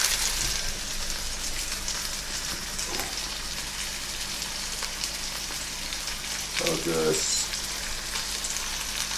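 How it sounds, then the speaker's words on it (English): Steady crackling sizzle of chicken frying in extra virgin olive oil in a pan, with a couple of brief stirring or scraping sounds partway through. "I just cooked the chicken like that on a pan with some olive oil"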